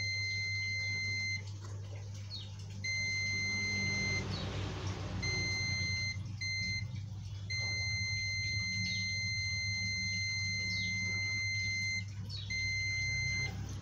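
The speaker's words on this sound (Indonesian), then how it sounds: "coba kan saya tes buzzer" A multimeter buzzer beeps while probing a mainboard for a short circuit, giving steady high tones in repeated bursts with brief gaps, fairly faint and alone over quiet room hum.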